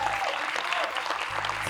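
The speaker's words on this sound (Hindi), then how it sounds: "एक बार जोरदार तालियां बनती हैं" Loud, dense applause from a large audience fills the hall at a Bollywood film trailer launch event, a continuous wash of many hands with no pauses.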